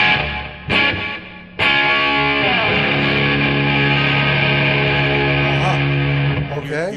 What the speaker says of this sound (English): Hear that chorusing effect?